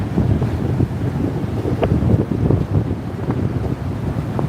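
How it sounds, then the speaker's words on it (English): Lake Michigan waves washing onto North Avenue Beach in Chicago during winter snow, a steady roaring surf wash heavily buffeted by wind gusting against the microphone. "So I'll let you listen to the waves here."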